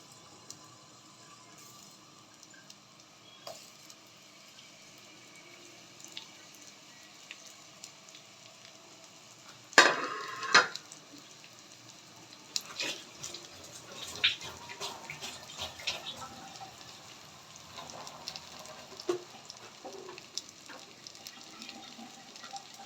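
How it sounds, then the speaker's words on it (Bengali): Hilsa fish pieces laid one by one into hot oil, a quiet background hiss that flares into a crackling sizzle as the fish goes in, then irregular spitting and popping, close and without talk. "তেল গরম হয়ে গিয়েছে আমি এক এক করে মাছটা দিয়ে দিব"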